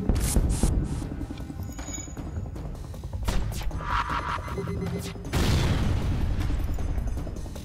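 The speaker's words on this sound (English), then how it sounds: "Let's test out this breach weapon." Weapon fire in the FTL: Faster Than Light space game, a breach weapon, comes through as a few deep booming bursts over a steady low electronic hum, with a louder rumbling blast near the end.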